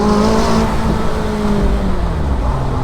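A McLaren car's engine heard from inside in Monaco, a loud continuous drone with a slight rise and fall in pitch as it revs, with no talking.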